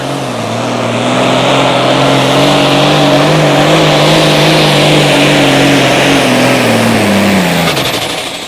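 A pulling tractor at an outlaw tractor pull in Wisner, Nebraska roars loud and close, its engine note held steady for several seconds and then dropping in pitch as the run winds down.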